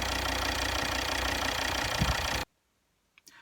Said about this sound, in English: I started the car and immediately put my foot flat down on the accelerator